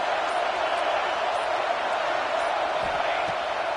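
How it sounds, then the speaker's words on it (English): Dense, steady stadium crowd roar in a football video game on a third-down play, a loud broad wash of cheering noise with faint thumps underneath. "Decibels rising as the crowd gets behind this defense on third down."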